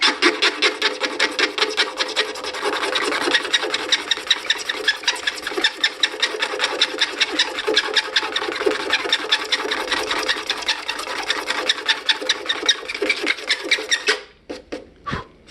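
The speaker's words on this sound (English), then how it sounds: "as you scrape this, you're gonna see the scrapes" A razor blade scraping scratches from sanded carbon fiber resin, a close, rapid, steady rasping stroke after stroke that stops near the end, without talk.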